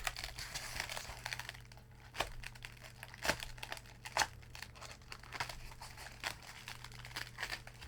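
Thin factory packing foam crinkles and rustles in short crisp bursts as a keyboard is lifted out of its case, close and fairly quiet, with no talking.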